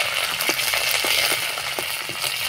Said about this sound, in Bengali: এবার আমি একটু নাড়াচাড়া করে ফোড়নটা ভেজে নেব